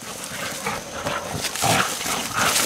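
Boar-hunting dog barking and whimpering around a freshly caught wild boar outdoors, a dense, noisy mix of yelps and rustling close by, fairly loud and continuous.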